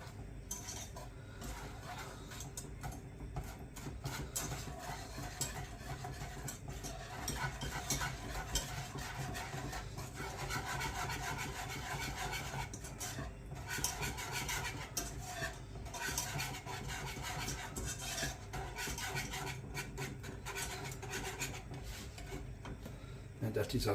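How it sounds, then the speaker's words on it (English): Sugar is stirred into melted butter in a pan for a rum caramel sauce, a continuous scraping, swishing stir with faint sizzle and utensil clinks, close and steady, with a voice talking over it at times. "Stir that until it's all dissolved."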